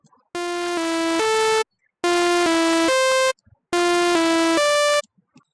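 A bright square-wave lead synth from a hard techno track plays a three-note melodic phrase three times, each note sustained and buzzy, with short silences between phrases.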